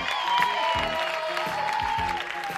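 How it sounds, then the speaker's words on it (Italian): A studio audience on a 1980s Italian music television show claps in steady, dense applause, with a presenter's voice faintly audible over it. "Questi applausi"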